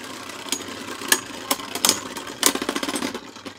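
Beyblade Burst spinning tops in a stadium give sharp, irregular metallic clacks as they collide, with a fast rattling flurry near the end over a steady whirring hum, close and moderately loud with no talk.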